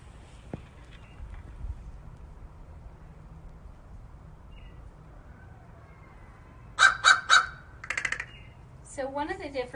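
A fish crow gives a short series of three quick nasal caws, then more calls follow after a pause, with a faint voice near the end.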